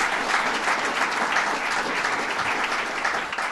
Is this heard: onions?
no